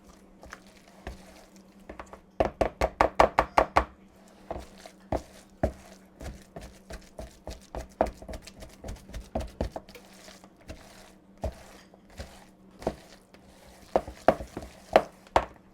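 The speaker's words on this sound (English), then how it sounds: "Now we're going to get that egg and those potato flakes all mixed together." Egg and dried potato flakes being mixed together in a bowl, a run of quick, uneven tapping and scraping strokes with a faint steady hum underneath and short pauses between bursts.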